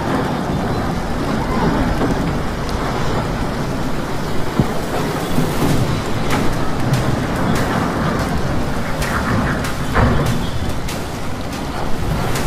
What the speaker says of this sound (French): La pluie continue de tomber